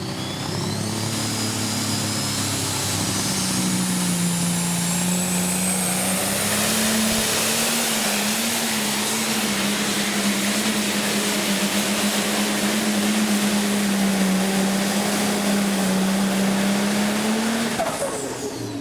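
A John Deere pro stock pulling tractor, the Money on Black machine, roars at sustained full throttle during a pull, its loud droning engine holding a steady pitch with a high whine on top, up close and constant.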